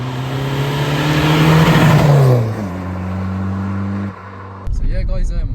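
A Skoda Fabia vRS diesel hot hatch drives and accelerates, its engine droning and rising in pitch, then easing off as it shifts, followed by a cut to talk inside the car.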